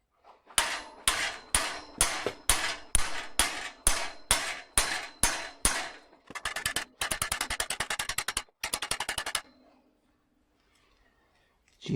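A hammer strikes the cotter pin of a Union bicycle's bottom bracket in about a dozen sharp, evenly spaced metallic blows. Then a faster burst of quick rattling taps follows before the sound stops into near silence.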